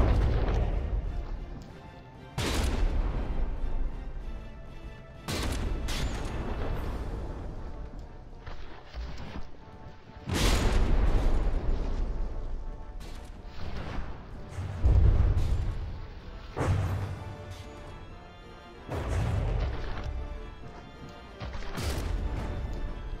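Heavy artillery shells fire and slam into warships during a From the Depths naval battle: around eight loud, booming crashes over the stretch, each a sharp hit followed by a rumbling decay, with no talking.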